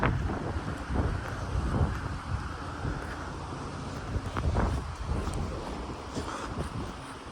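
Strong gusting wind of up to 50 mph batters a microphone outdoors, a continuous loud roaring rumble that surges and eases throughout, with no voices.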